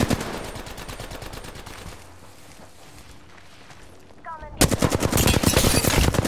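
Rapid automatic gunfire in a multiplayer shooter as an enemy is taken down: a loud steady burst, a quieter lull of distant shots, then a sharp return to heavy close fire.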